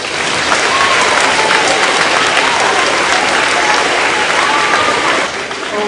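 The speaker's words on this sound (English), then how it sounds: "You can applaud." Middle school students at an assembly clap together in a loud, sustained burst of applause that fills the room for several seconds, then eases slightly at the end.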